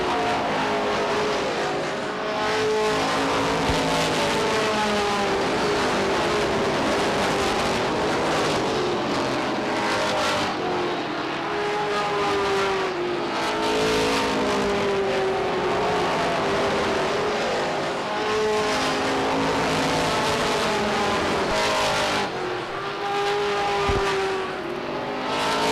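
Stock cars race around Beech Ridge Motor Speedway in 1991, a dense, continuous roar of several engines rising and falling as cars pass and work through lapped traffic, loud throughout.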